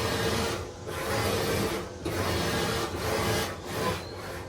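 A loaner truck with all-wheel steering grinds and rasps mechanically as its wheels turn, a harsh scraping whir that swells and dips in several surges, close and fairly loud with no talking.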